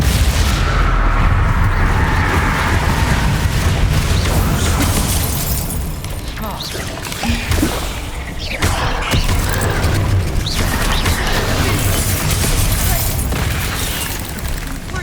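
Spell explosions from a Hogwarts video game, Bombarda and Confringo blasts, a dense continuous barrage of loud booms and crackling bursts over a steady rumbling game soundscape.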